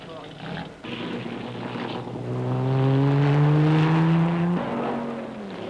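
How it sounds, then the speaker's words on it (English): Engine of a 1952 Porsche race car left running while it refuels in the pits at Le Mans, a loud steady drone that rises in pitch and eases back, with speech over it. "A Porsche is being refueled with engine running"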